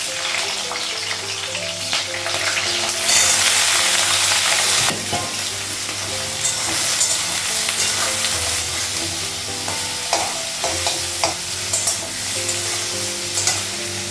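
Green chilies frying in a pan in a home kitchen, with steady loud sizzling and repeated stirring scrapes running throughout, and a louder burst of sizzle partway through.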